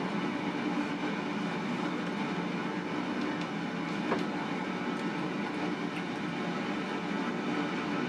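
F-15D Eagle jet engine in a flight simulator game, a steady, unbroken roar of broadband rushing noise that holds at one level throughout, with no voices.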